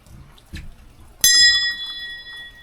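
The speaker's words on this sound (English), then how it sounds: "you can go ahead and ring the ancestors bell." The ancestors bell in a supposedly haunted tomb setting is struck once, giving a bright metallic ring that decays slowly after some quiet shuffling.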